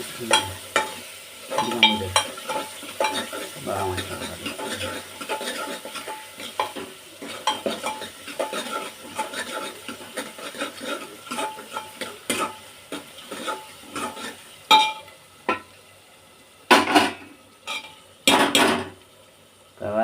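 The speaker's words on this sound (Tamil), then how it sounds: "இப்போ வெங்காயம் வதங்கிச்சா, கொஞ்சம் கறி தூணுங்க" A spoon scrapes and stirs meat with sautéed onions sizzling in a pan, with repeated metallic clinks and scrapes that grow sharper and louder toward the end.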